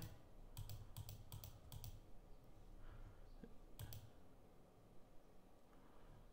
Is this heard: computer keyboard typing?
yes